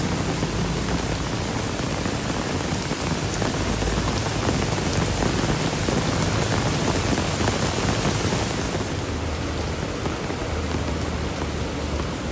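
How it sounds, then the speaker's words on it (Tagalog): Heavy rain pouring at night beside the rising Marikina River, a loud, dense, unbroken hiss of downpour on surfaces with a slight easing near the end. "Ayan, ang lakas ng ulan."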